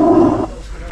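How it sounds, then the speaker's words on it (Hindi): A tiger at a nature park gives a loud, close, throaty roar that cuts off partway through, leaving a low rumble of background noise behind it. "बहुत तेज दहाड़ रहा है टाइगर"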